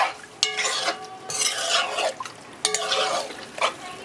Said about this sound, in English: make sure you mix this thoroughly. Get everything covered.